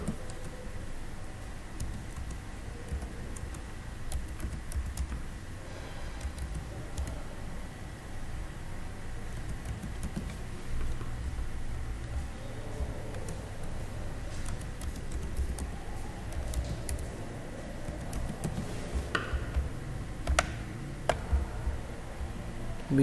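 A password is typed on a computer keyboard: faint, quiet key clicks come in irregular runs over a low background hiss.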